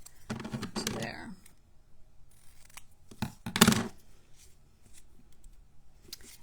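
Scissors snip through a small paper sentiment being trimmed for a handmade card, giving two quiet bursts of cutting with light paper rustle between them.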